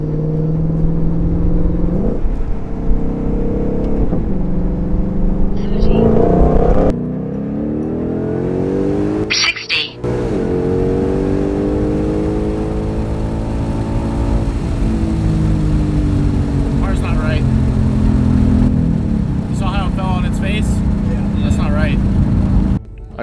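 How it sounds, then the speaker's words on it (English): A supercharged Ford Mustang GT or stock Shelby GT500 pulls hard in its lowest gear, a loud, continuous engine roar whose pitch climbs, falls and climbs again through repeated revving sweeps, steady and close throughout. "Time to get to the lowest gear possible and give it the full beats."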